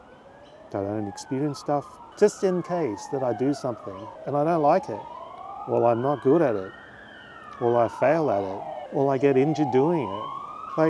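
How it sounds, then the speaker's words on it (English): Wailing and yelping emergency sirens pass in the background, rising and falling repeatedly, while a person talks steadily over them close to the microphone. "you can hear the sirens in the background"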